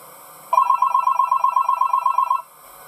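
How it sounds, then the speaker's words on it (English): An in-game telephone rings in the horror game Five Nights With Mac Tonight 2. A rapid electronic trill repeats for about two seconds, clear and fairly loud, then stops abruptly, with no talking over it. "Alright, we get a phone call."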